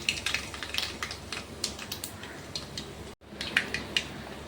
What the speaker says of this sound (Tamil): எண்ணெய் காஞ்சிடுச்சு நம்ம இப்போ கடுகு போட்டு ரெகுலர் தாளிப்பு தான் தாளிச்சிக்கலாம்